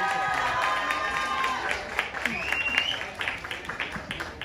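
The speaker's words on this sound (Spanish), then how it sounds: "¡Fuerte el aplauso!" Audience applause and cheering for a candidate being introduced at a school-style event, a steady crowd wash with vocal calls that thins toward the end.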